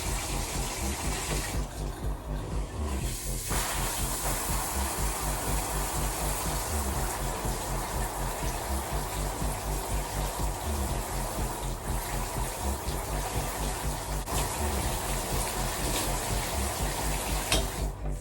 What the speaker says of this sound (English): Now we are going to turn on the shower, and I'm going to flip my hair over and just dampen it.